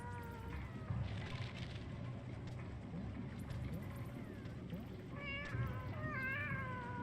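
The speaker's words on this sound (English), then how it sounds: "Hearing their sad little meows just makes me sad." Cats meow in the video game Animal Well, several wavering, plaintive cries rising over a steady game ambience, with a cluster near the start and more near the end.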